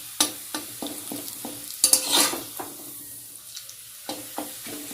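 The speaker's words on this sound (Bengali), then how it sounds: "আমি পাপড় ভাজলাম" Papad frying in hot oil, a faint sizzle beneath a series of sharp clicks and scrapes from a utensil against the pan, with a brief louder crackling burst midway.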